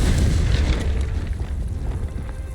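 The Confringo fire spell from Hogwarts Legacy erupts in a loud, close blast, a broad rumbling burst that carries on as a crackling, fading roar.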